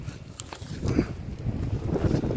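A fishing boat runs in from the sea toward a breakwater and harbour in wind and rain. A low, steady engine rumble sits mostly buried under strong gusting wind noise on the microphone.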